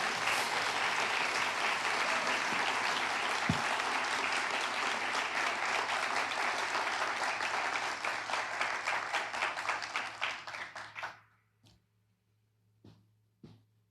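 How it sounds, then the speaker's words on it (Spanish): A church congregation applauds loudly and steadily for about eleven seconds, then the clapping thins out and stops, leaving a few scattered claps in a quiet hall. "Denle un aplauso al Señor si usted puede."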